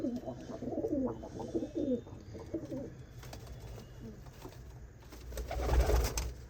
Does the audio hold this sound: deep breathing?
no